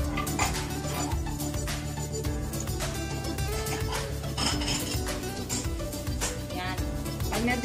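Malabar spinach being cooked dry in a pan, with steady metallic clanks and scraping of a utensil against the pan alongside a faint sizzle, loud and close throughout.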